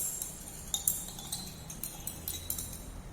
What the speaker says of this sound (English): Lead nitrate is crystalline. By stirring, you can dissolve it.